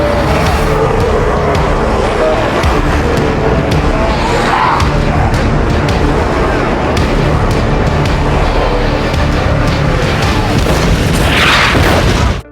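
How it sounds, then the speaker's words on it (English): A massive explosion in a zombie movie, set off when a car's fuse is lit, fills the scene with a loud, dense roar and rumble. Crashing bursts are heard over a continuous heavy din. "The massive explosion cleared a path for them."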